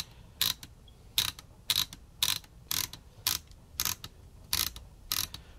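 Ratchet wrench clicking in nine evenly spaced bursts while a Sylvania colour tube television set is reassembled, each crisp ratcheting stroke standing out over a quiet workshop.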